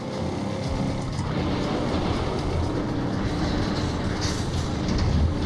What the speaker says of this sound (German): Oh, Züge.